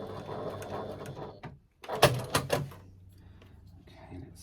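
A Classico MK2 sewing machine re-stitches a seam in a brief burst of needle runs with a few clunks in the middle, following a stretch of steady mechanical hum with a voice in the background.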